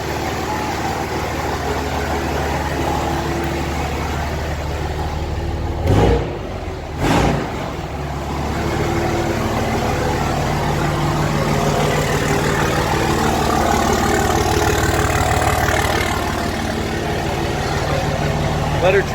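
Car engine idling steadily after repair, a low continuous rumble close by with a couple of brief louder bursts midway, while people talk over it.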